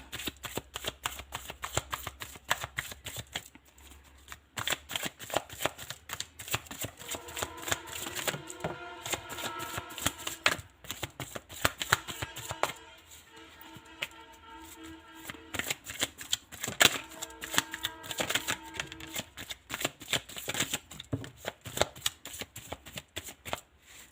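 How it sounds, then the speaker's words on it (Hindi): Tarot cards are shuffled close up in repeated riffling bursts with brief pauses between rounds, crisp and soft, with no talking. "सबसे पहले मैं कार्ड सफल कर लेती हूँ पूरे"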